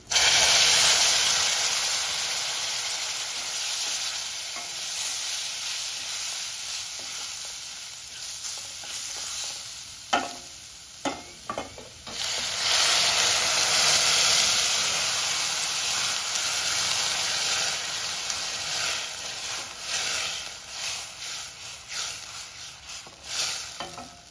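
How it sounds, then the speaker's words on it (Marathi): Boiled water poured into semolina with dry fruits for a guava kheer, giving a steady close hiss and sizzle with brief bursts of stirring partway through. "पाणी उकळून जे ठेवलेलं आहे ते आपण आता रव्यामध्ये घालणार आहोत"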